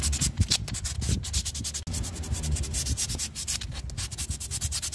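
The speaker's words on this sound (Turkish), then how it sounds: "Diğer balatamızı da güzelce zımparalıyoruz." A scooter's rear brake pad is rubbed against sandpaper in quick, rough back-and-forth strokes, a steady scratchy rasping that repeats closely for several seconds with a brief pause midway.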